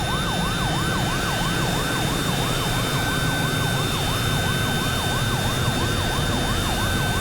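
A wailing siren sweeps up and down in a fast, regular cycle over a steady roar and a high constant whine, loud and unbroken, mimicking the tinnitus of Meniere's disease.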